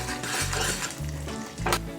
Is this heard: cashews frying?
yes